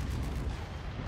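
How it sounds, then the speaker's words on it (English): Dual Gauss cannons firing in a video game give a heavy, continuous low rumbling boom, loud and close with no talk. "Now that is the power of dual Gauss cannons"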